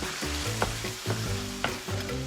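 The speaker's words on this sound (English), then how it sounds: "Tomato in there. Stir that around." Chopped tomato sizzles loudly in a hot frying pan for stuffed bell peppers, a steady crackling hiss with a few scraping stirs of a utensil spaced about half a second apart.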